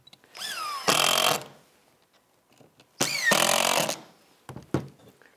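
Power drill driving screws to fasten a caster wheel onto a cabinet, two loud short whirring bursts with a rising pitch, separated by quiet handling clicks and taps.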